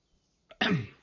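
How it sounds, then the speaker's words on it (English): A single short, sharp cough preceded by a faint throat sound, close to the microphone in a quiet room. "oh goodness, I keep coughing, I do apologise."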